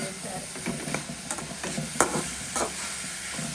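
Three dried red chillies fry with snake gourd in a pan for a village-style Tamil pudalangai dish. A steady close sizzle runs throughout, with scattered stirring scrapes and clicks over it.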